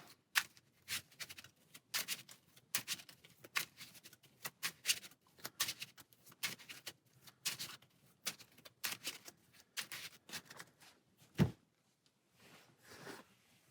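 Marvel Champions game cards shuffled by hand at close range, a run of crisp riffling bursts and soft slaps repeating for several seconds, then a pause with a final rustle.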